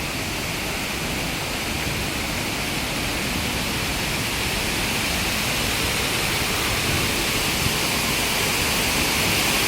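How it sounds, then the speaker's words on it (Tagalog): An outdoor water fountain splashes in a constant, dense rush of falling water, loud and even throughout with no pauses. "Fountain."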